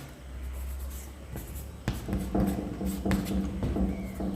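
Chalk or marker on a board during a maths lecture, a series of close scratching and tapping strokes in uneven bursts over a low background hum.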